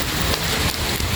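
Steady drizzling rain at an outdoor evening birthday celebration at Lembur Pakuan, a continuous soft hiss of fine drops without pause or any voices.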